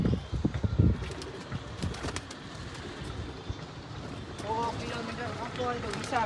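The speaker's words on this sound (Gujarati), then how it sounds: "જો કબૂતર આસમાનમાં ચડી ગયા." Pigeons cooing outdoors, several soft throaty coos repeating with some chirps mixed in, moderately close, while people talk quietly in the background.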